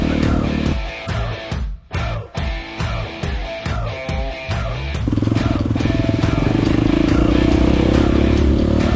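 Off-road motorcycle ridden over dusty terrain, engine loud and close with choppy revving bursts early, then a steady sustained roar; a rider's voice is heard faintly amid the engine noise.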